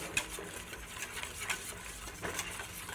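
Roux being stirred into warm milk in a pot, a steady close swishing and scraping of the spoon with soft rhythmic strokes and light taps against the pot, no voices.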